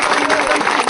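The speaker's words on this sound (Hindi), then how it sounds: "एक जोरदार ताली से" Dense crowd applause at a political rally in Banka, Bihar, a steady wash of many hands clapping at once, loud and continuous throughout with no gaps.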